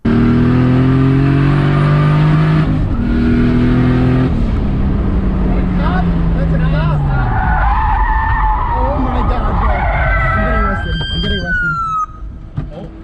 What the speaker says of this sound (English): These guys were going for a joyride and spun out their car right in front of a police officer.